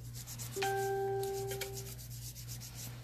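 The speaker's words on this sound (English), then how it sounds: "now I'm going to use alcohol to cleanse the top of the nail" A nail is wiped with alcohol to cleanse its surface, giving a soft, close rubbing and scrubbing sound, with a brief clear ringing tone partway through.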